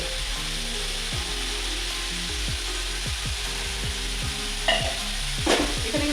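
Mushroom curry sautéed in oil in a pan, a continuous close sizzle with repeated scraping stirs of a spoon against the pan, loud and steady with no talk.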